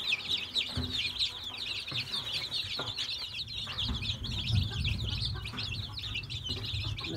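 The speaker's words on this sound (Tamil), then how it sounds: "இது பார்த்திங்கன்னா நம்ம கரையான்கள் முதமுறையாக கொடுக்குறதால குஞ்சுகள் கொஞ்சம் பயப்படுது." Young chicks fed termites for the first time give dense, continuous high cheeping, close and fairly loud, with some soft clucking and shuffling underneath.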